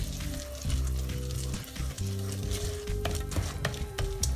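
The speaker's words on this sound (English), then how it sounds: "They have to fry for a little bit." Pieces of chicken for butter chicken fry in a pan, a close, steady crackling sizzle with occasional sharper pops and the scrape of stirring.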